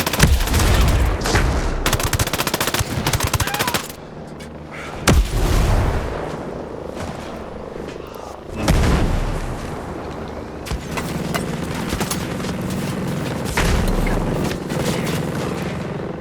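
Grenade explosion and gunfire in the tactical shooter Ghost Recon Breakpoint: dense bursts of rifle fire and heavy booming blasts come and go in loud waves, with several deep explosions and rattling volleys throughout.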